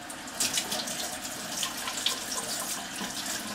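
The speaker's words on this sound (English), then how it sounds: "Wash my hands." Kitchen tap water runs steadily into a sink while someone washes their hands, a continuous close hiss with light splashing throughout.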